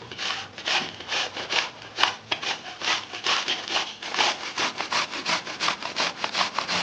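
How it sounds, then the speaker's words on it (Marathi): An apple is grated on a fine kitchen grater, giving close, steady rasping strokes in a quick, even rhythm that repeats throughout with no talking. "आता मी ही बारीक ग्रेटरवरती ग्रेट करून घेणार आहे"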